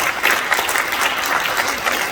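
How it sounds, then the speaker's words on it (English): A school crowd at Norcom Middle School applauds Coach Wright, loud steady clapping throughout, close and dense, with no talking on top. "Let's give Coach Wright a round of applause."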